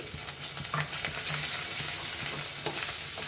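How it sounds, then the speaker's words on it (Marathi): Crushed garlic and ginger fry in hot oil for a chutney, giving a continuous close sizzle with scraping stirring strokes recurring throughout and no talking. "आता याला छान असं तेलामध्ये भाजून घ्यायचं।"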